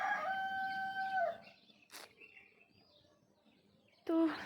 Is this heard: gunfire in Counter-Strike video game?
no